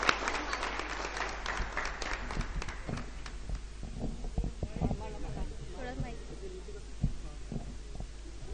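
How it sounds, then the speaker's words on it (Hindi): An audience at the Bijwasan Kavi Sammelan 2017 poetry gathering claps to welcome poet Anita Mahuwal, with uneven bursts of hand claps close to the microphone over a low hum and some background voices. "तो आइए महुवाल अनीता जोरदार तालियों के साथ अभिनंदन करें"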